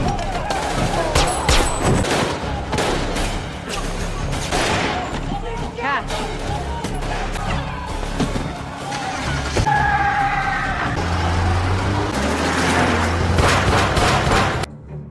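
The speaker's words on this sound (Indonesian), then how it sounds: "memulai baku tembak yang sengit" Gunfire in a fierce movie shootout, with rapid volleys and single shots cracking steadily for about fifteen seconds, mixed with booms, engine noise and voices speaking over the action.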